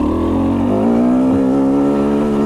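A KTM 250 XC dirt bike engine idles and warms up close by, a steady buzzing drone whose pitch rises and then holds, running continuously and loudly with no talk.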